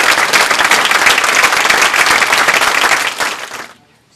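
Sustained applause from a gala audience, dense clapping holding steady and loud for several seconds before tapering off quickly to near silence.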